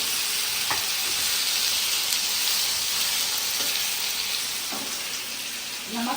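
Potatoes fry steadily in a pan in a village kitchen, giving a loud, continuous sizzle with a few faint scraping stirs scattered through it and no talking.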